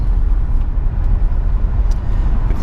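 A BMW E30 cruises down a street, giving a loud steady rumble of engine and road noise with no clear gear changes over a few seconds.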